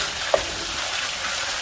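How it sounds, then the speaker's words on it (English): Ground beef seasoned with ground cumin and a black peppercorn mix sautés in a pan, giving a steady, even sizzle with one brief click near the start and no voices. "Give that a saute here"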